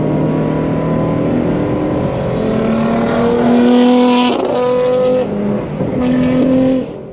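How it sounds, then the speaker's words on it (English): Nissan GT-R and other cars lapping the NJMP Lightning track, loud revving engines rising and falling through gear changes with passing cars, no talk. "That GTR sounds absolutely amazing"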